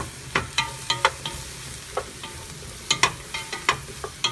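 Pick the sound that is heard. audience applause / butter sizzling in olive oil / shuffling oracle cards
butter sizzling in olive oil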